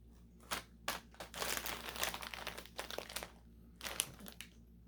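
A handful of sweet and spicy Haldiram's Indian snack mix being handled and crunched close up: crisp crinkling bursts in irregular clusters, loudest through the middle, with quiet gaps between.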